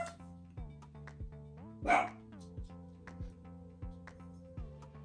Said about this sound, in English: My dog wants to say hello.